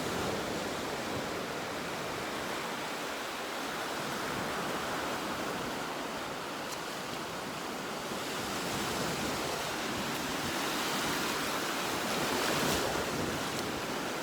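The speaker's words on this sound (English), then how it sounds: "the ocean with me for a moment." Steady ocean surf washes continuously onto a beach, a broad soft roar mixed with wind, with no voices.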